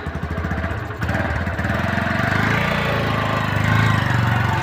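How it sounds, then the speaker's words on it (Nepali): A KTM motorcycle engine runs at a steady, loud, buzzing mid-range pitch close by on a rainy ride, with the pitch shifting slightly after the first second. "स्कुल बाइक पनि बिग्रने रहेछ।"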